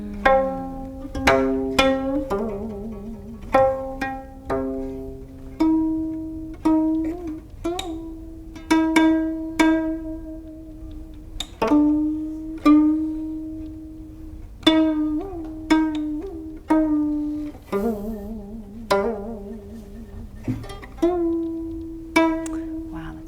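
A plucked gayageum plays a slow melody in keimyeonjo mode, each note ringing and decaying with deep, wavering vibrato, close and clear with no voices.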